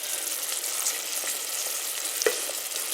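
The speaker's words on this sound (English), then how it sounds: "So I'm just letting the vegetables now cook in that, and I'm breaking up the broccoli a little bit as it's beginning to cook quite well." Mixed vegetables with broccoli cooking in soy sauce inside a Sunbeam 16-cup rice cooker, a soft continuous sizzle with a few faint stirring scrapes and one brief knock near the end, close and quiet.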